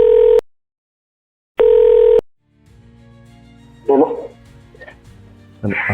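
Telephone tones for a phone-in quiz on an Ethiopian TV game show: two steady electronic beeps with a silent gap between them, then a quiet line hum, with brief voices breaking in near the end.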